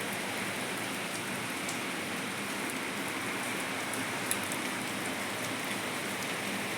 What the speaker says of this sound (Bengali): 5টা থেকে বৃষ্টি শুরু হয়েছে।